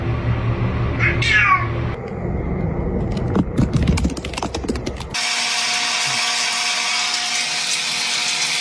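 A pet cat meowing up close with a drawn-out, wavering yowl early on, followed by mechanical clatter and a steady electronic hum, no talking.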